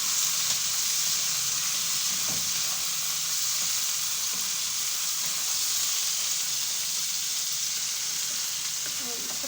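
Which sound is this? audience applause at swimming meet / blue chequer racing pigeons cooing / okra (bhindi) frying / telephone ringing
okra (bhindi) frying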